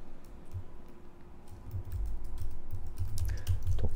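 Someone types an HTML file on a computer keyboard, a steady run of close key clicks that grows busier and louder toward the end, with no talking.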